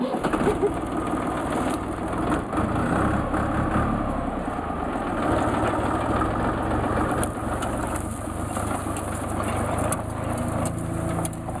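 Mini-tractor pulling a homemade potato harvester converted from a Polish horse-drawn digger, a steady mid-pitched engine chug with rattling machinery, close and continuous, with faint voices underneath.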